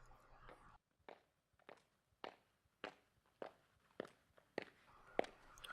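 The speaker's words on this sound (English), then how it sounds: "Ooh, footsteps." Footsteps in the video game Steins;Gate, about nine distinct hard steps at an even walking pace, moderately close and clear against near silence.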